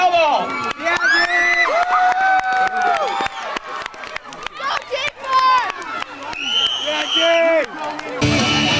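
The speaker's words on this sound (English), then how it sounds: "Give him a round of applause." A crowd cheers and shouts loudly for a musician coming out on stage, with excited voices and whoops rising over the noise throughout and a burst of clapping near the end.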